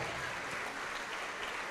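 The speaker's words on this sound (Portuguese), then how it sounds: "vamos aplaudir ao Senhor Jesus" A church congregation applauds steadily, a soft, even spread of many hands clapping heard from some distance and fairly faint, with no voices standing out.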